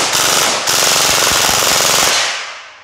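An upgraded Mk47 Chimera gel blaster fires full auto in one loud, rapid buzzing burst of evenly spaced shots that lasts about two seconds and then stops abruptly, with no talking.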